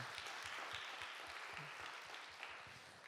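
A church congregation at a praise gathering claps together in a steady wash of applause that stays soft and somewhat distant, slowly tapering off over a few seconds.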